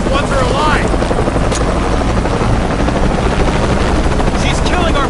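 A helicopter in the video game Shadow of the Tomb Raider roars loud and close, its rotor noise filling every moment without a break, with faint sweeping tones rising over the din.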